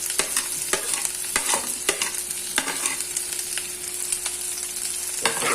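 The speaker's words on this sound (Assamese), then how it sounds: "তো মই এইখিনি ফ্ৰাই কৰি আছোঁ।" Onion, ginger, garlic, green chili and soybeans frying in a pan, a steady loud sizzle broken by repeated sharp scrapes and knocks of a spatula stirring against the pan.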